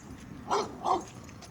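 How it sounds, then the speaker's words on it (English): A dog gives two short, sharp barks about a third of a second apart, fairly close, over a quiet background with no talking. "Another dog."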